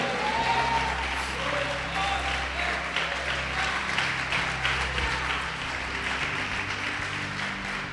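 A church congregation applauding, a steady wash of many hands clapping at a moderate distance, continuous and even throughout, with a low hum underneath.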